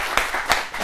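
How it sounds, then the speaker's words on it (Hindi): A short burst of scattered clapping from the audience at a televised poetry show, applauding the poet Anamika Ambar, with a few distinct claps standing out over a soft background. "मैं चाहता हूं एक बार तालियां अनामिका अंबर के लिए।"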